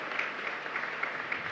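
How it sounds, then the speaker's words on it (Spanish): An audience applauds after a Mass at the San Blas parish church in Loma Pyta, Asunción, giving a brief, even patter of clapping at moderate distance with no voices over it. "un fuerte aplauso para ellos"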